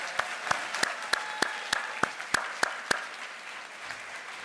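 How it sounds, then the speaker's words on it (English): Sharp, evenly spaced claps at a school district recognition celebration honoring retiring staff, about ten distinct beats in a steady rhythm that stop after three seconds, with quiet room tone underneath. "Can we please give them a well-deserved round of applause?"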